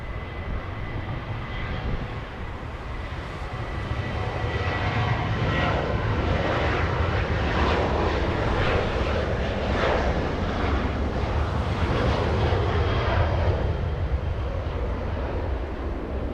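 Jet airliner engines roar steadily at Los Angeles International Airport, a loud, continuous broadband rumble that swells slightly midway as arrivals stream in, with no voices over it.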